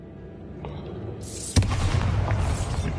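The Bombarda spell in Hogwarts Legacy hits a barricaded archway: a quiet buildup, then a sudden booming blast that leaves a rumbling roar of debris for over a second.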